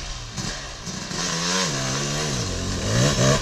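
A motorcycle revving hard as the rider lifts into a wheelie, a loud, close engine whine that rises and dips in pitch across a few seconds.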